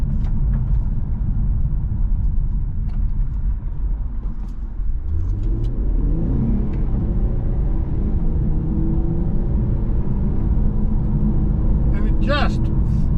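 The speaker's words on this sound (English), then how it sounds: "Just rips down the road. I mean, this V6 is darn responsive." A 2024 Infiniti Q50 Red Sport 400 with a V6 and seven-speed transmission accelerates hard, its engine note climbing through a gear change under a constant, heavy in-cabin road rumble.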